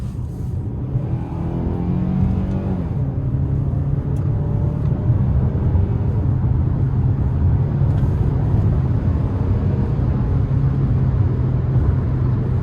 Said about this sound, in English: So I'm going to put it in a sport mode now. Going to give it a pull getting on the interstate here.